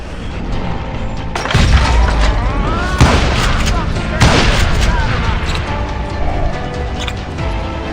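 Booming gunshots ring out in the Western shooter Call of Juarez Gunslinger, several heavy blasts and echoing reports spread across the stretch while someone talks over the action.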